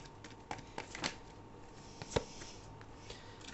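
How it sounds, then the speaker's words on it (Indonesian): Tarot cards being shuffled, soft quiet riffles and scattered taps and flicks of the deck close to the microphone, faint and intermittent, with no speech. "aku akan shuffle lagi"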